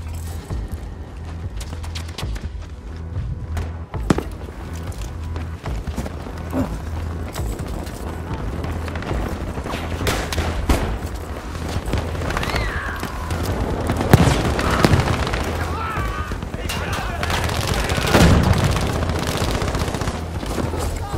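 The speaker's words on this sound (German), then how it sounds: "Die Munition geht ab!" Ammunition cooking off amid sustained gunfire in the video game Battlefield V, a dense, continuous battle din of rapid shots and explosive pops that swells louder in the second half, with faint voices under the noise.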